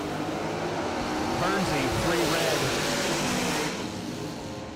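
A dragster roars down the strip at a bracket racing event, a loud sustained engine drone swelling and then fading slightly as it passes, with an announcer talking over it.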